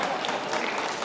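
A university reunion audience applauding and cheering, dense sustained clapping from a large crowd filling the room.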